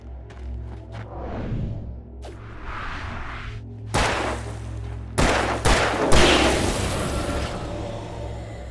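Gunfire in the video game Alan Wake Remastered: several sharp, loud shots and booms crack out at irregular intervals, mixed with swishing whooshes over a low droning ambience, growing denser toward the end.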